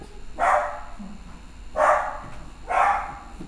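Dogs bark in three separate, fairly loud bursts spaced about a second and a half apart, with quiet background between.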